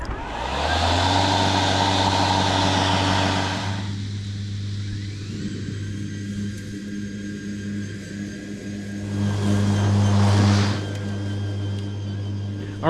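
A lawn mower runs continuously while mowing St Augustine grass, a steady loud engine drone with a brief rise in intensity near the end, no talk over it.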